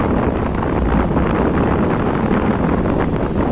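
Strong wind buffets the microphone on the seashore at Varsoli beach in Alibag, a loud, steady roaring rush with no voices.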